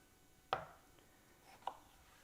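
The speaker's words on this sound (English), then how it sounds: "what I'm going to do here is quarter all of my tomatoes" Knife quartering tomatoes on a cutting board, two sharp separate chops about a second apart, close and crisp against a quiet background.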